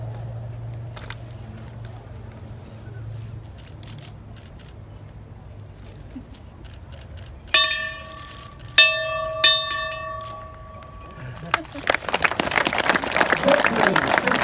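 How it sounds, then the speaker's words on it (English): A victory bell rings out at a high school memorial ceremony, several bright, resonant strikes with lingering tones, followed by a crowd breaking into applause and cheering. "Jamie and Linda, let's hear the bell."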